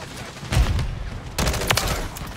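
An M16 rifle loaded with firework tracers fires in Modern Warfare 3, sounding as rapid bursts of gunfire in two volleys with a pause between, close and loud.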